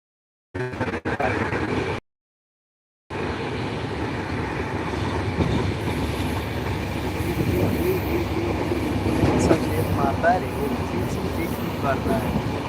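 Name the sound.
train running on tracks, clickety-clack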